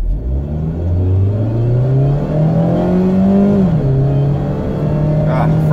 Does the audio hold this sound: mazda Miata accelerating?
yes